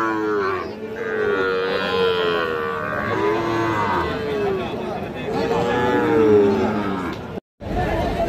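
A Sahiwal bull calf at a cattle market in Joypurhat moos loudly in several long, drawn-out calls, with crowd chatter and voices murmuring in the background.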